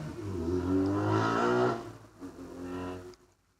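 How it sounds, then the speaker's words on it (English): A Subaru Impreza is pushed hard through the corners of a hillclimb course. Its engine revs up loudly, then backs off and fades as the car moves away. "And Ken Trimmell's Subaru Impreza is pushing hard around those corners now."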